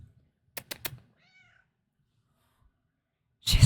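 A pet cat lets out a short, high meow after a few quick knocks, heard close and alone against a quiet room, followed by a burst of louder handling noise at the end.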